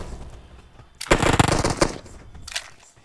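Uzi gunfire in a video game shooter: a loud, rapid burst of automatic fire lasting close to a second, followed by a shorter burst, with a voice heard faintly in the background.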